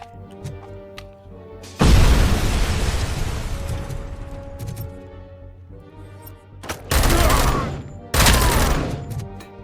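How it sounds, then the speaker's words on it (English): Grenade blasts in the Robocop Rogue City video game: one heavy, loud boom with a long rumbling tail, then two more sharp bursts close together near the end, with gunfire crackle between them. "Grenade."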